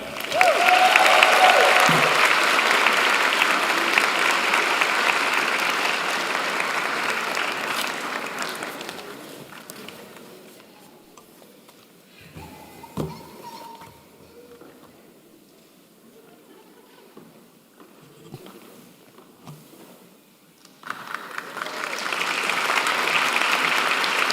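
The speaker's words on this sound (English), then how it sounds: "So a big round of applause for all of our award winners." A convocation crowd applauds award winners, loud sustained clapping that fades into a quieter stretch with scattered sounds, then swells again near the end.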